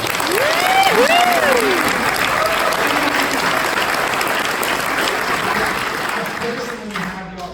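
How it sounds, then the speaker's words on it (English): Sustained applause from an audience filling the hall at the 7k Metals Long Island Regional Event grand finale, loud and steady before tapering near the end, with a few cheers and whoops rising over the clapping. "I would like to ask you all to give yourselves a big applause"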